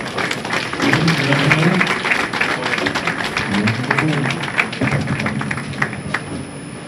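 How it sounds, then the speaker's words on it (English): An audience applauding at the 2014 BPAA Women's All-Star bowling stepladder finals, with scattered, moderately loud clapping and a few voices mixed in, tapering off toward the end. "how about a nice round of applause for the ladies?"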